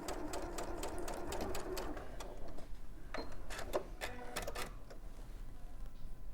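A sewing machine stitches a quilt seam, its needle clattering in fast, even bursts with brief pauses between runs, close and fairly quiet.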